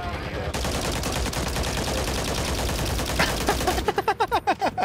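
Rapid gunfire in Warzone 3 from a sniper support loadout, a dense sustained burst of shots close up, ending in a string of separate loud reports.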